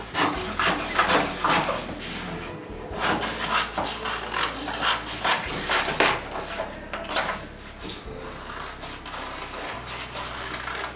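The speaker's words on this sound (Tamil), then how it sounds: "இதை நம்ம கட் பண்ணிப்போம். இப்போ கட் பண்ணலாம்." A paper body draft for the top portion of a low-waist frock is cut out, giving repeated rasping, papery cutting strokes in a steady rhythm over a constant low hum, close and moderately loud.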